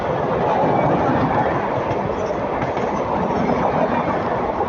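A local train rolls past on a railway line between Ahmedabad and Mumbai, a steady, loud, dense rumble with rhythmic wheel clatter that holds for several seconds with no voices over it.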